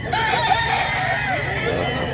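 Roosters crow at a gamefowl market in Mantalungon, Cebu, in drawn-out calls over a busy, noisy crowd murmur, some clucking mixed in.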